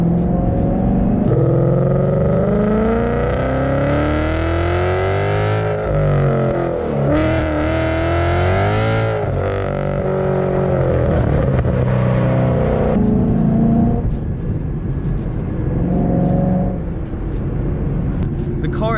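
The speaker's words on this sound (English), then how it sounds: "Now let's hear that exhaust." A modified Ford Mustang 5.0 roars loudly through its exhaust, with rising and falling revs that swell and settle as the car drives. The engine note stays close and continuous throughout.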